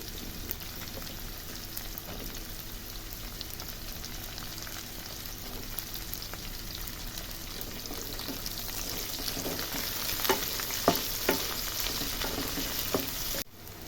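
Onions sizzle in hot oil with dried red chillies in a pan for a Bengali cauliflower and rui fish dish, a steady close frying hiss with occasional sharper pops and crackles toward the end.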